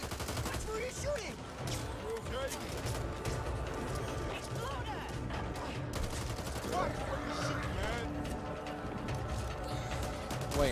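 Rapid gunfire rattles almost without pause through a co-op session of the zombie shooter Back 4 Blood, bursts and single shots layered over game music while players talk over the action.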